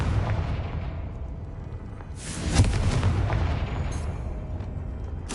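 A Confringo fire-spell blast goes off in Hogwarts Legacy, a single boom with a crackling burst, set against a steady game soundscape.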